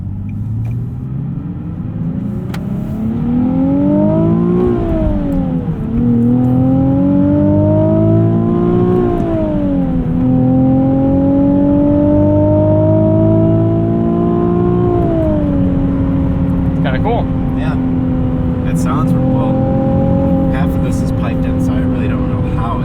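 A 2020 Nissan 370Z NISMO pulls hard on an open road, its engine note climbing through repeated accelerations with brief dips at each shift, loud and steady throughout.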